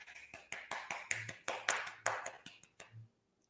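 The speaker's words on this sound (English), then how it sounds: "That's my little hand clap." Hand claps come in a quick, rhythmic run of about a dozen light, close claps, evenly spaced and fading to silence at the end.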